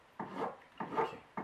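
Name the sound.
filing carving wax with a file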